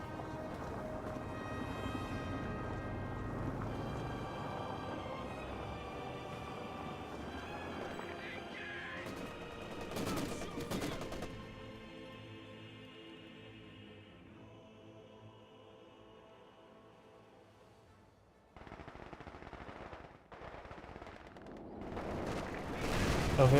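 Vickers or MG42 machine gun fire in the Company of Heroes 2 World War II strategy game crackles in scattered bursts amid a dense battle din, with a sharper cluster of shots midway and softer rumbling elsewhere.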